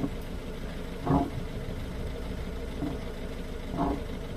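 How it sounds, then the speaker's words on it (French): A car engine idles while warming up during a vinegar cleaning of its particulate filter. A faint, steady low rumble runs throughout, broken by a couple of brief knocks. "On laisse tourner un petit peu, le temps que le moteur il chauffe"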